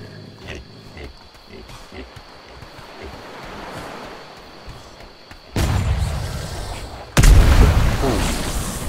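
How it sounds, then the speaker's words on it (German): Cannon fire in a video game, a low rumbling background that gives way to two heavy, loud booms in quick succession near the end, each followed by a sustained roar. "Schießt er mit der Kanone auf mich?"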